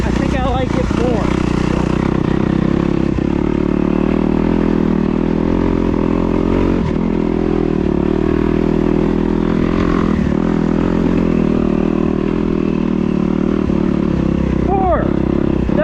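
A 2021 Kawasaki KX250X dirt bike engine drones steadily while being ridden, with brief rev changes as it shifts through the gears. The engine is loud and close, with a rider's voice talking over it at times.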